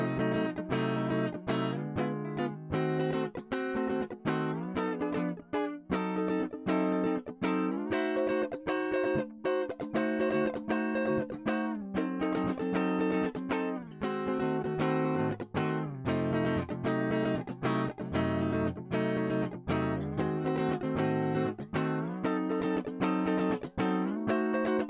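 Inside chords played live on guitar, strummed and plucked in a continuous sequence of ringing chord changes, loud and close with no talking.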